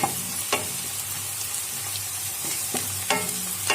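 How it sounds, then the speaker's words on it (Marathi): Garlic paste frying in a pan for palak paneer, a continuous close sizzle broken by a few sharp scrapes of a spoon stirring it around. "आता आपण ह्याच्यात घालूया लसूणचा पेस्ट। आपल्याला मिक्स करून घ्यायचे व्यवस्थित।"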